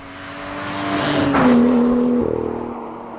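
A BMW straight-six, from either an M2 or an E36 M3, revs up loudly and then drops back, a steady tonal engine and exhaust note swelling toward the middle before easing off.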